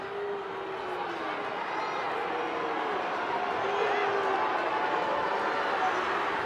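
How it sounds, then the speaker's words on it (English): Stadium crowd at a women's Six Nations rugby match between England and Wales, a broad roaring cheer swelling as a maul drives forward, heard beneath commentators talking. "You can hear just the crowd egging this on"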